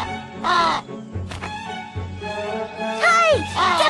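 Crows caw repeatedly in an animated Watership Down scene, the harsh calls loud and close in several bursts, with a low voice or music underneath.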